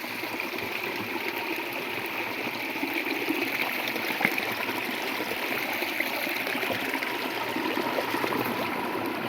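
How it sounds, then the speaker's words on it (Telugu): A small forest waterfall and the stream flowing over it give a steady, unbroken rush of water, close and even in level throughout, with no voices. "ఇది స్మాల్ వాటర్ ఫాల్లో ఉంది"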